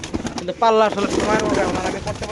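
Pigeons coo in a soft, throaty warble close by at a pigeon farm, several calls overlapping amid light background chatter.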